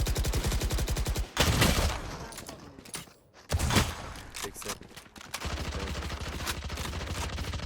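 Bulldog rifle fire in a Valorant match, with rapid bursts of shots that pause and resume, loud and close, under game effects and overlapping voice chat.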